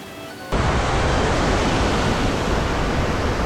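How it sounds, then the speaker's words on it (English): A steady, roaring rush of Giessbach Falls near Brienz, Switzerland, begins abruptly and continues loudly and evenly, with no talking. "This is the next waterfall."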